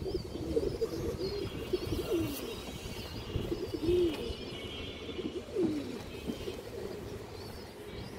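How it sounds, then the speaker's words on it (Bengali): Pigeons of fancy high-flyer breeds, including green-necked birds, coo softly in repeated low, rolling calls over a steady background murmur, several coos spaced a second or two apart. "পিওর সবুজ গলা কবুতর দর্শক।"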